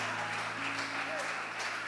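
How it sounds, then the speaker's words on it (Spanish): A church congregation applauds for the Lord, a steady wash of many hands clapping at moderate distance, with a sustained instrumental tone and faint voices underneath. "Denle fuerte un aplauso al Señor."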